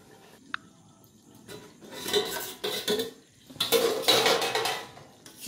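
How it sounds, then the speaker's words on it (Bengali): Metal pot and lid clattering while a chicken curry is being covered to simmer: a sharp tick, then several bursts of rattling and scraping cookware, close and fairly loud, with no talk. "এবার আমি একটু ঢেকে দেবো"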